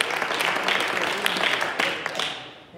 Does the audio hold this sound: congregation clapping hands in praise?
yes